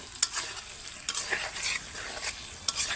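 Eggs and potatoes stir-fried in a pan, a continuous sizzle broken by several sharp scraping strokes of a spatula at an uneven rhythm, close and clear with no voices.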